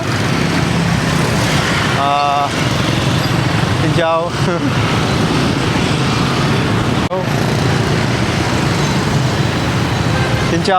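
Dense Ho Chi Minh City street traffic gives a steady roar of motorcycles and cars, broken by a few sharp horn blasts near the start and middle. The traffic is close and loud throughout.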